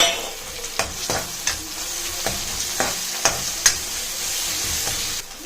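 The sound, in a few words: small onions and tomato frying in a pan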